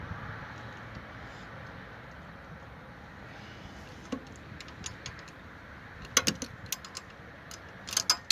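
A wrench works the camshaft pulleys off an engine, producing faint, sparse metallic clicks and ratcheting ticks that grow into a few sharper, closer clacks near the end, with no talk.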